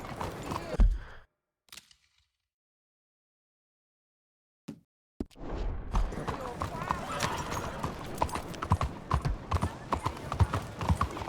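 Horse hooves clip-clopping in Red Dead Redemption 2, loud and close, starting after a brief silence and running as a steady rhythmic gallop with a whinny and a voice at the start.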